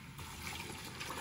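Water poured into a pot of cooked chickpeas and frozen peas with potatoes and lentils for a curry, a steady trickling fill heard close and alone.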